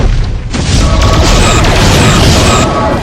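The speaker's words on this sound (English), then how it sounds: "Photon torpedoes, fire." Photon torpedoes fire in the Star Trek First Frontier video game, a loud booming launch blast with a bright crackling sweep that sustains for a few seconds.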